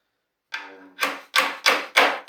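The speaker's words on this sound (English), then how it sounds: "I'll try to hammer it." Hammer blows driving a nail into the frame of a Wegner CH-25 lounge chair during Danish cord seat weaving: five sharp, close strikes about half a second apart, the first a lighter ringing tap.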